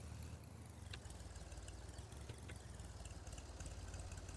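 A tractor engine idles in a Polish farming game, a steady low rumble with a regular chugging pulse, faint and continuous with nothing else over it.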